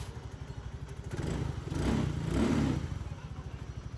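An Easyride 150Fi motorcycle with an open kalkal exhaust pipe putters at a steady idle, then swells through two revs before dropping back to idle.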